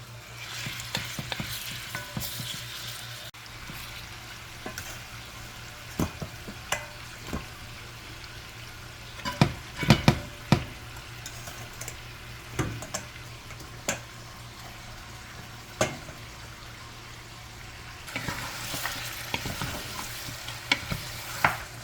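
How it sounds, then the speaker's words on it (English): Goat meat fries in scorched curry oil for Jamaican curry goat, a low continuous sizzle broken by repeated sharp knocks and scrapes of a spoon against the pot, some clustered, others spaced apart. "we're gonna stir this in and just keep stirring it until you get the flavor all circulated in the goat meat"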